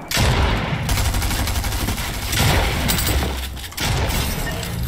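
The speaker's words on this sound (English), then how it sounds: "I'm not hitting a single hit with my shotgun." Dense, chaotic video-game gunfire with repeated shotgun blasts and shattering impacts, loud and continuous across the whole stretch with no talking.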